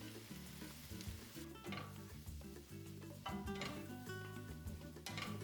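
Zucchini frying in a pan, softening and browning, with smoked paprika and ras el hanout added: a close, steady sizzle under background music, with occasional scrapes of stirring and no voices.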